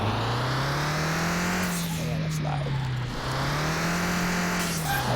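Engine revs up and down in a racing video game, Car Mechanic Simulator 2021, as a car accelerates on its test track, a steady loud drone rising in pitch, easing off, then climbing again.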